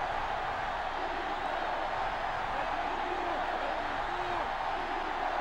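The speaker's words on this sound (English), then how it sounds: "Crowd going absolutely bananas." Video game stadium crowd in NCAA Football 06 roaring and cheering after a touchdown-saving play, a steady loud wash of noise that holds throughout with no break.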